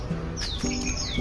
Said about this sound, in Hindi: देखो कैसे चिड़िया है, छोटी सी चिड़िया। आवाज़ भी सुन सकते हैं आप।